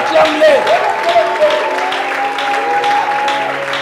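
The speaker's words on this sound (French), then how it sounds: "Je veux que tu acclames le Seigneur." A church congregation claps and cheers to acclaim the Lord, a dense continuous wash of applause filling the hall, with a loud voice speaking over it throughout.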